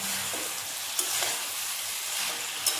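Potatoes frying in a pan make a steady, close sizzle, with a couple of brief stirring clatters and no voices.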